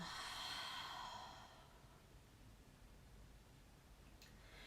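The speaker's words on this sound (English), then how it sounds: "Open mouth exhale." Open-mouthed breath released during a yoga breathing exercise: a soft, breathy whoosh that fades after about a second and a half, followed by quiet room noise.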